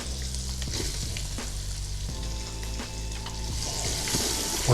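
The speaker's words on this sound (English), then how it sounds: "You add your onions for saute." Onions and bacon sizzle steadily in an Instant Pot on sauté, a continuous close frying hiss with occasional stirring scrapes, no talk.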